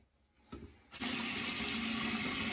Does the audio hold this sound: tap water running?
yes